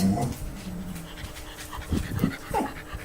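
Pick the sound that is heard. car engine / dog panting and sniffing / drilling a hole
dog panting and sniffing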